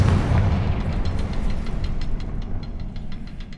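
Confringo blasting spell explosion in Hogwarts Legacy inside a cavern: a heavy deep boom that rolls and rumbles away over a few seconds, loud and alone.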